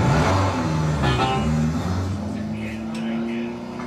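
A car pulls away and drives off, its engine rising briefly and then settling as it moves, while people talk over it.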